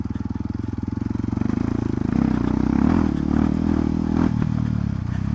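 A Kawasaki motorcycle rides off-road, its engine a loud, close, steady throbbing drone that rises slightly partway through, with rattling and scraping over rough ground.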